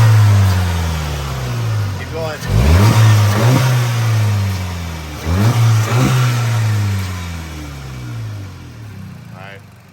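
VW MK7 GTI 2.0T fitted with an APR carbon fiber intake, revved in repeated bursts while mostly stationary, the engine rising sharply and falling back to idle between blips, loud and close, with brief talk over it.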